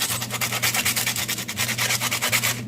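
Rough husk of a citronella stalk rubbed by hand, giving a close, steady back-and-forth scratchy rasping in quick regular strokes, alone without talk.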